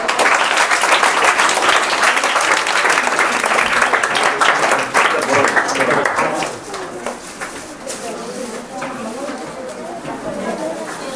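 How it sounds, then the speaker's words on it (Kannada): A crowd applauds at a government model primary school farewell ceremony in Kadakola, loud dense clapping that thins and fades after several seconds, with pigeons cooing nearby and voices in the background. "ಅವರಿಗೆ ಚಪ್ಪಾಳೆ ತಟ್ಟುವ ಮೂಲಕ ಗೌರವ ವಂದನೆಯನ್ನು ಸಲ್ಲಿಸೋಣ"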